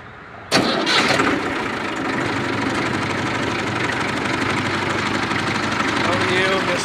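A diesel engine on a farm vehicle cranks and catches with a sudden loud burst, then settles into a steady rumbling idle that continues close by.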